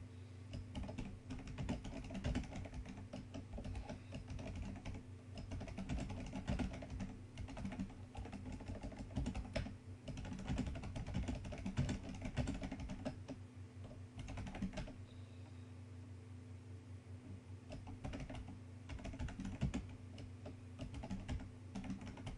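Steady typing on a computer keyboard while writing ads, with a continuous run of close keystrokes for the whole stretch and no talking.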